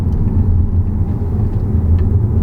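A Skoda Octavia iV plug-in hybrid's engine drones as a low, steady rumble from inside the car while driving, fairly loud and unbroken with no talk over it.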